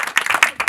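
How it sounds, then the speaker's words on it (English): Several people clapping in a small group, a quick run of sharp, close hand claps in an uneven rhythm lasting under a second. "can we get a clap for that?"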